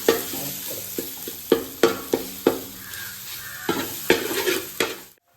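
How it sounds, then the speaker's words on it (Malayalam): Garlic-ginger paste sizzles hard in a hot pan at the start of a home beef roast, with a steady frying hiss broken by repeated sharp scrapes of a stirring spoon. Nobody speaks. "ഫസ്റ്റ് നമുക്ക് നമ്മുടെ വെളുത്തുള്ളി ഇഞ്ചി പേസ്റ്റ് ഇടാം കേട്ടോ. ചൂടായി കഴിഞ്ഞു."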